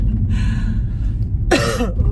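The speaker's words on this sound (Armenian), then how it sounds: "Այս հազս որ սկսում է" A single harsh cough bursts out over a steady low rumble of background noise, close and fairly loud.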